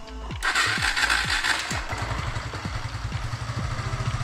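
A motorcycle engine with a fresh battery cranks with an electric starter and the clutch pulled, catches with a burst of revs, then settles into a steady, close, rapid idle putter; no talking.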